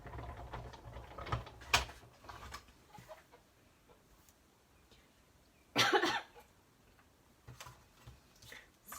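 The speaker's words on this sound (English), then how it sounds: "Excuse me, guys, while I cough and splutter." A single harsh cough bursts out close and loud, standing alone after a stretch of quiet ticking and faint rustling.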